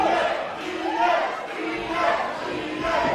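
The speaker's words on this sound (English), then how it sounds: "And a Diaz chant beginning in the crowd here." Wrestling crowd at an XWA show chanting a wrestler's name, Diaz, in a rhythmic rising-and-falling pattern of massed voices, loud and close, pulsing roughly once a second.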